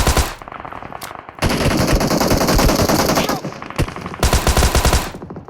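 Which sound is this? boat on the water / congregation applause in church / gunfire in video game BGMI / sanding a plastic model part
gunfire in video game BGMI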